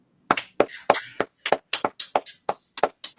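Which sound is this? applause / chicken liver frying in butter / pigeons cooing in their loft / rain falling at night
applause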